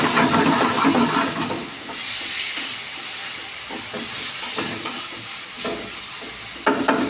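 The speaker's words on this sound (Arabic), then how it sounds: "هنزل عليها بشوية فلفل أخضر وأحمر. ونديها تقليبة." Green and red peppers tossed into sizzling chicken for fajitas, giving a loud hissing, steaming sizzle that surges as they hit the hot pan and then settles into a steady fry with a few stirring clatters, close by and without talking.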